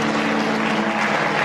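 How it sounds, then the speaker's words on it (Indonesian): Church congregation applauding loudly during a worship service, a thick continuous roar of clapping with a steady low hum running underneath, short and close. "Yang merasakan hadirat Tuhan kasih tepuk tangan yang meriah."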